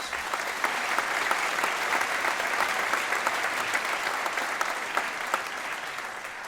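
An audience at the Buffalo State of the City address gives a steady round of applause, dense even clapping at moderate loudness throughout with no voices standing out.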